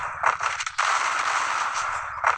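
Gunfire in a shooting video game sounds out in quick bursts of sharp shots, a brief cluster early followed by a longer sustained roar of rapid fire and one more burst at the end, loud and with no voices.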